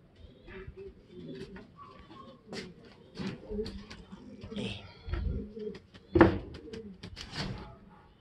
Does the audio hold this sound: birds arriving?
yes